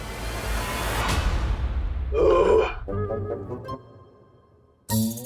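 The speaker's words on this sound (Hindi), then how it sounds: "डकारी तो दी थी" A burp after a full meal, a short, fairly loud belch that sounds alone after a stretch of whooshing noise, followed by a brief vocal sound.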